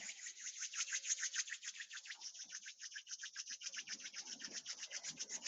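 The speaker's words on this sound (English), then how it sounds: "we're going to gently rub our hands together" Palms rub together gently in a quick, even back-and-forth rhythm, giving a soft, close, continuous swishing that lasts several seconds in a quiet room during a yoga session.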